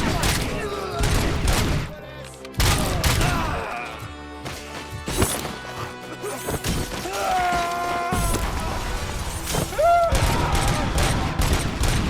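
Gunfire in a Robocop video game demo crashes out in bursts of rapid shots and smashing impacts, loud and close, with speech and pitched voice sounds mixed in between volleys.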